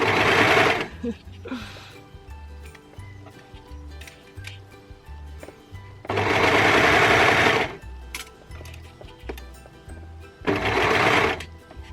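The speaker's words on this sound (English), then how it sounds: "Definitely don't sew over the pins when you're using the overlocker" An overlocker stitching stretch fabric for a hoodie and joggers, running in three loud, steady bursts of about one to two seconds each, with quieter handling and fabric rustle between them.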